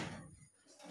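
A door pulled shut in a home on a rainy morning, one soft muffled thud early on, then quiet room tone.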